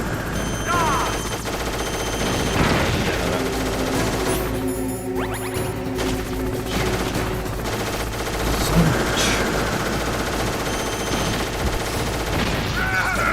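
Gunfire from the video game Metal Gear Solid (Master Collection) rattles almost continuously, with bursts of shots and clattering impacts over dense, steady game noise.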